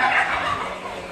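Turkeys gobbling inside a chicken farm house, a dense, continuous chorus of overlapping calls held at a steady, fairly loud level throughout.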